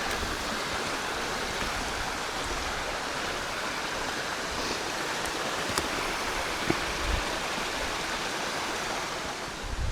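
A forest stream spills down a small waterfall, a steady, fairly close rushing wash of water with a few faint knocks and no voices.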